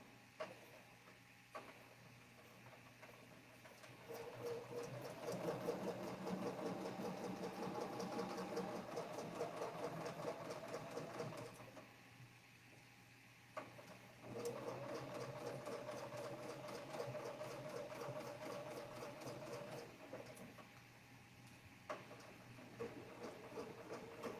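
A sewing machine stitches a quilt in long continuous runs of rapid mechanical whirring and ticking, stopping briefly twice, heard close and fairly quiet without speech.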